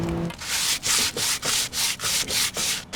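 Rhythmic harsh scraping, about eight back-and-forth strokes of foil scrubbing a metal grill grate, close and loud with no talking.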